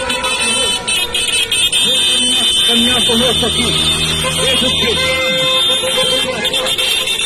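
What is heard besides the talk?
car horns honking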